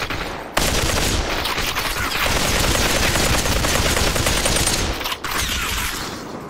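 Sustained automatic gunfire in the VR shooter Population: One, dense rapid bursts near and loud, running almost unbroken for several seconds with a brief pause.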